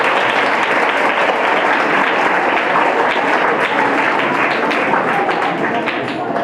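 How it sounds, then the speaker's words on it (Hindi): Sustained, loud applause from a classroom audience clapping for a student, dense and steady throughout with no pauses. "सबसे जोरदार तालियां इनके लिए।"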